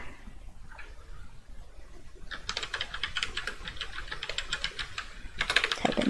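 Quick, uneven clicking of computer keys, close and clear, fills the second half of the clip, with no talking, while text is typed into the Figma design tool.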